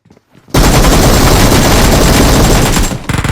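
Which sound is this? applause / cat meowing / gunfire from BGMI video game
gunfire from BGMI video game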